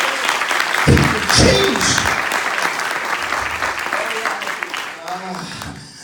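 Church congregation at a bilingual Spanish-English service in Kilgore, Texas, breaking into loud sustained applause with cheers, a preacher's voice speaking over the clapping throughout.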